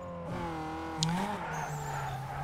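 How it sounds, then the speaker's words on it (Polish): A rear-wheel-drive car drifts in Need for Speed Underground 2, its engine droning in rising and falling harmonics, with a tire squeal and a short sharp scrape partway through, continuous and fairly quiet. "To jest drift ukryty."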